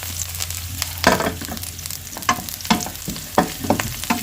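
Chili peppers sauté in a hot pan, with a steady sizzle broken by repeated louder scraping and stirring bursts, close and fairly loud.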